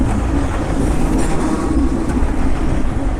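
A tram in Hong Kong heard from on board by an open window, a loud, steady close rumble of wheels and wind rushing past without a break.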